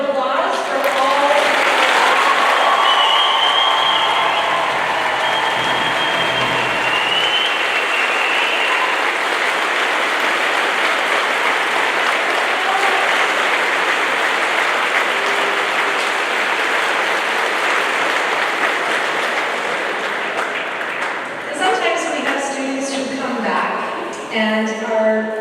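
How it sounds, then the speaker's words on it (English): A large crowd at a graduation ceremony breaks into loud sustained applause that carries on for about twenty seconds, with brief voices and music-like tones over it at the start and a speaking voice as it fades. "if we can have the biggest round of applause for all"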